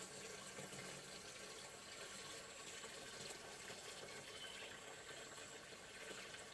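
Water with wash residue is tipped slowly out of a bucket in a laundry. It makes a continuous, fairly close pouring and splashing gush that holds steady for several seconds with no voices.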